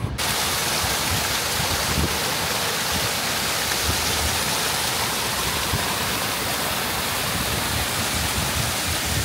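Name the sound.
small waterfall flowing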